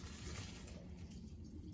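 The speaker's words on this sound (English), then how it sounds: "We're going to pour it into a colander" Water from cooked microwave macaroni noodles pours through a colander into a kitchen sink, a faint, brief splashing trickle that fades quickly.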